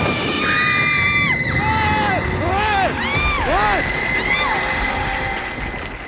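A woman's loud, shrill scream of fright rises and falls in wavering sliding pitches over a noisy studio crowd on a comedy show, with voices talking beneath.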